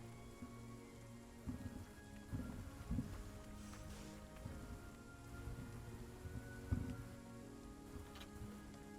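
Rain falls steadily in a soft, constant patter with scattered heavier drops, faint and even throughout with no voices.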